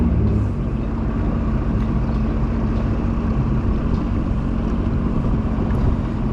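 A personal watercraft jet ski engine runs steadily with a loud, constant droning rumble close by, mixed with wind noise and no voices.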